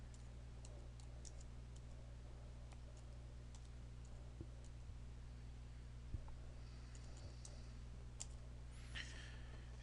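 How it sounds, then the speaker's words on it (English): Faint, sparse keystrokes tap on a computer keyboard as a router command is typed, with scattered soft clicks over a steady low electrical hum. "So now we're going to type in show protocols."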